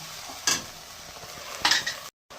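Fish curry in a pan as the spice-bowl rinse water goes in, two short bursts of hiss and bubbling sizzle against a low background, then a brief cut to silence.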